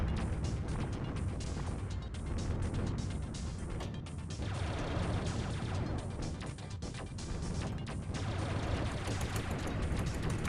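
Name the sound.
gunfire from many bullets in the video game Mars Invader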